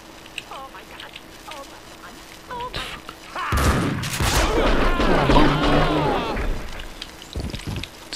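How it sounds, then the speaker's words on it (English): A heavy explosion in the video game Max Payne 2 erupts midway as a loud, sustained blast with rumbling debris, after a short stretch of quieter gameplay sounds and a few brief tones. "The sound of an explosion came from the direction of my apartment."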